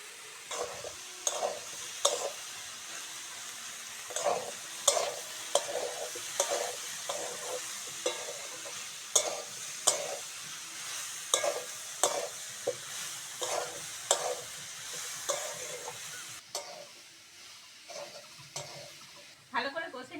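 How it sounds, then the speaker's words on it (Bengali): Soybean chunks and potato frying with onion in a pan, with a steady sizzle under a run of repeated stirring scrapes and clinks of a spatula against the pan, close and continuous. "সয়াবিন আর আলুটা পেঁয়াজের সঙ্গে ভালো করে ভেজে নেব"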